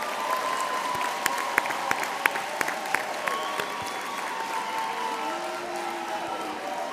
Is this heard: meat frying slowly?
no